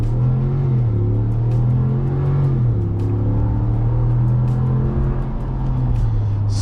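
A 2022 Ram 1500 Laramie pickup's engine pulls hard under heavy throttle, a loud, steady low rumble from inside the cab that climbs and then dips slightly as the transmission shifts, with no talking.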